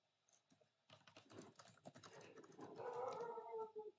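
Fingers type a chat message on a computer keyboard in a quick, irregular flurry of close, soft key clicks, building slightly in density toward the end, with no voices over it.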